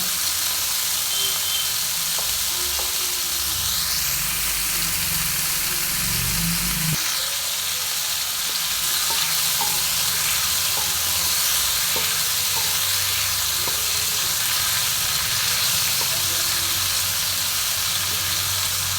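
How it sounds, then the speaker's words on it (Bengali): Prawns fry lightly in a small amount of oil, a steady close hiss and sizzle lasting throughout. A low rumbling hum runs underneath early on, and occasional soft taps of stirring come through. No voices. "কম তেলেই আমি চিংড়ি মাছটা ভেজে নেব হালকা করে ভাজবো চিংড়ি মাছ"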